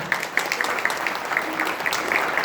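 Applause for the young people at a church gathering, steady clapping from an audience at moderate distance, continuing through the moment without talk over it.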